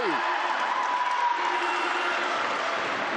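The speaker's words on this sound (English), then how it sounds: "It's got pretty loud in here, though. The crowd are well and truly in it now" Loud, steady roar of a basketball arena crowd cheering at a Tauihi Basketball Aotearoa women's game between Mainland Pouākai and Whai, with a commentator talking over the din.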